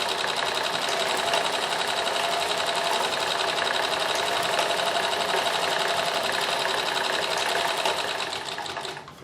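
A Singer 201K sewing machine stitches steadily while making a cravat and pocket kerchief, a loud, continuous whirring run that eases off at the very end.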